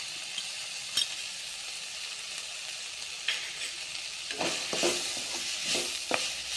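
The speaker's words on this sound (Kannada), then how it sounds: "ಶೇಂಗಾ ಕೊಬ್ಬರಿ ಪೌಡ್ರ್ ಅದು ಇದ್ರಾಗ ಹಾಕೊಂಡು 1 ನಿಮಿಷ ಇನ್ನೊಂದು ಸ್ವಲ್ಪ ಫ್ರೈ ಆದರೆ ಸಾಕು." Pre-cooked green beans stir-fried in a pan with peanut and coconut powder, giving a steady soft sizzle with intermittent scraping stirs and light clatter, louder toward the end, no talking.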